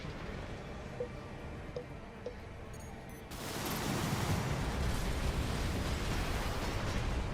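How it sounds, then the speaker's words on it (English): Missiles striking a mech in a video game, first a few small popping hits, then a sudden heavy blast that swells into a dense, sustained roar of explosions. "Just keep hitting him with the missiles, please."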